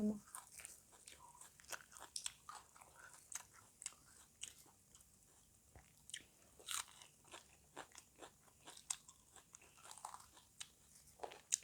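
Fresh raw vegetables, a slightly bitter sappy green, dipped in sauce and eaten alongside dumplings, crunch close to the mic in crisp repeated bites and steady chewing throughout, with no talking.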